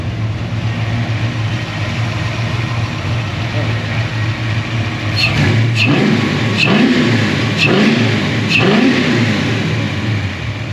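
A Fox Body car with Spintech mufflers and Holley Terminator X control idles with a loping rumble, then gets several quick throttle blips, each a short rising rev that falls back to idle, heard close and loud.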